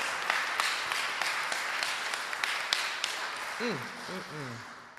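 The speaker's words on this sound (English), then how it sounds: "Let's give them another round of applause." Congregation applause at a church worship service, a steady wash of clapping with a few sharper claps standing out, while a voice calls out briefly near the end.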